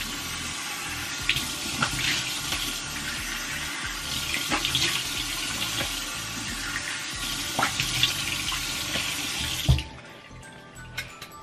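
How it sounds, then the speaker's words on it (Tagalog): Cold tap water runs steadily into a sink while a face is rinsed, with splashing surges throughout before the flow stops abruptly near the end, followed by a few faint drips and handling sounds. "Then, babanlawan ko na siya with the cold water again."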